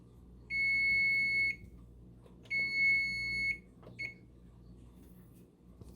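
A kitchen oven timer goes off during soup cooking, sounding two long, steady, high electronic beeps about a second each, then a brief short beep, loud and clear over a quiet room.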